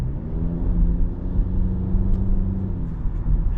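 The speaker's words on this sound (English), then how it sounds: "Nice sounding engine, has nice speed to it" A 2023 Jeep Cherokee Altitude 4X4 engine hums steadily from inside the cabin while driving, a low droning rumble with slight rises in pitch as it pulls, fairly loud and without talk.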